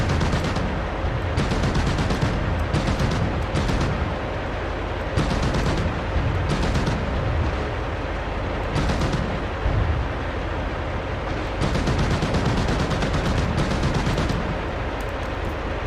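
A 12.7 mm machine gun fires from an MT-LB armoured personnel carrier in the DCS World combat game, loud sustained bursts of rapid fire broken by brief pauses, dense and booming throughout.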